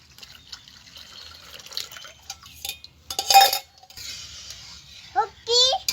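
Milk poured into a pot of boiled gobindobhog rice for carrot payesh: a short splashing pour around the middle, surrounded by light pot and utensil clinks in a quiet kitchen.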